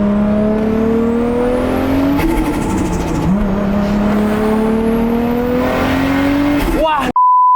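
Toyota Supra MK4 engine revving hard and accelerating through the gears, a loud, close rising whine that drops at a shift and climbs again, with speech mixed in, before the sound cuts off abruptly near the end.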